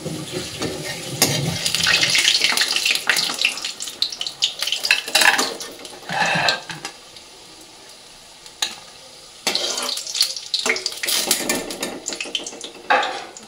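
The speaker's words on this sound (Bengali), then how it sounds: "এক এক করে পনিরগুলো সব ভাজা করে নিই" Paneer pieces fry in hot oil in a pan with loud, crackling sizzle that surges and drops in bursts, punctuated by scraping and clattering of a utensil against the pan; no one speaks.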